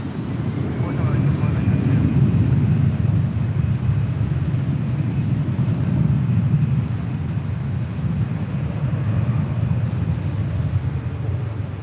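A Delta Airlines Airbus A319 airliner at LAX rumbles steadily in the distance, a broad low roar holding throughout with wind buffeting the microphone.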